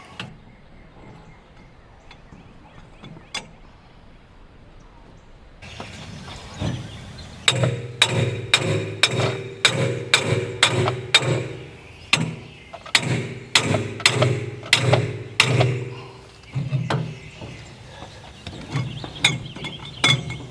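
A hammer strikes a pipe set against a stuck tractor PTO shaft, ringing metal clanks in a rapid, steady series of loud close blows, paused once and then resumed, with a few lighter taps near the end.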